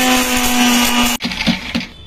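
A kitchen mixer grinder whirs at high speed pulverising cinnamon and cloves into powder, a loud steady motor whine that cuts off abruptly partway through, followed by rattling and clattering as it winds down.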